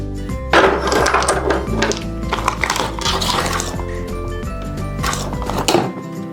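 Water splashing and pouring over crystals, with clinks and knocks as they shift, steady and close for several seconds.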